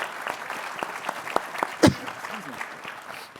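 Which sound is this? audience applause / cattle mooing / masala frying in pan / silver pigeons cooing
audience applause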